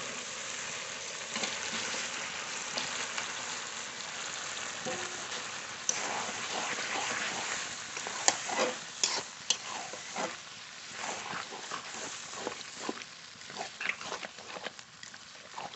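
Spice-coated duck meat frying in a hot pan, with a continuous sizzle and intermittent scraping and stirring clatter, close by, with no talk.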